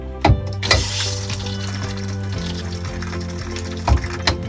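Water running from a freshly opened hot water tap inside an RV travel trailer being de-winterized, a steady continuous flow with a low pump-like hum and a few brief knocks near the start and end.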